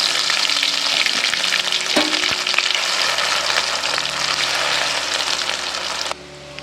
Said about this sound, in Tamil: கடுகு பொரிஞ்சிருச்சு. பூண்டு சேர்த்துக்கலாம்.